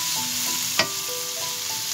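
Courgette frying in a hot pan for a crunchy vegetable stir-fry with vermicelli, a steady close sizzle with a sharp clink near the middle and faint tonal kitchen hum, no voices.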